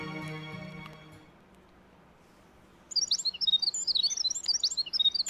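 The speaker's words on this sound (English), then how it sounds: "The birds are chirping." Birds chirping in the video game Fate/Grand Order, a run of quick bright tweets that starts abruptly partway through after a fading musical tone and a quiet stretch, fairly close and steady to the end.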